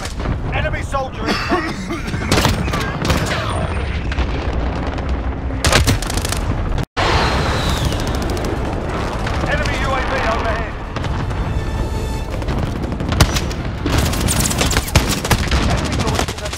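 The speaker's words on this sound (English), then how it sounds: "Enemy cluster strike incoming." Cluster strike explosions in Modern Warfare on Xbox One, a dense, continuous barrage of loud booms and rapid blasts layered over gunfire, with a clipped automated game voice speaking amid the chaos.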